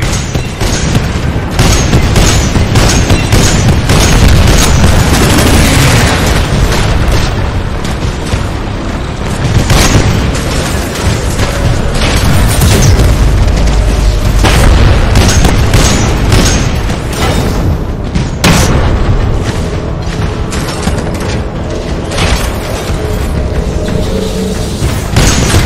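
Rocket barrage from a Titan's Salvo Core in the shooter Titanfall: a dense, continuous chain of loud booming explosions and bursts lasting throughout, with rapid overlapping impacts and no pauses.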